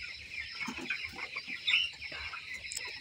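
A flock of 18-day-old broiler chickens in a poultry shed clucks and chirrups continuously at moderate loudness, many birds calling at once with no speech.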